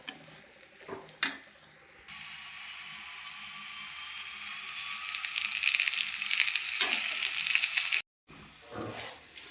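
Ginger, green chilies and curry leaves fry in a pan for a Kerala-style dish, giving a steady soft sizzle with a few sharp utensil clinks and scrapes against the pan.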